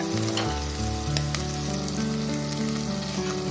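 Ginger garlic paste sizzles with onions in a clay pot for mutton curry, a dense, steady frying hiss with stirring scrapes and a few sharp ticks, close and loud throughout without speech.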